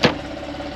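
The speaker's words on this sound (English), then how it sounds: "you can hear it thrumming away" Porsche 911 Carrera 4S 997.2 with a 3.8-litre direct-injection engine idling, a steady low thrum close by after a brief sharp knock at the start.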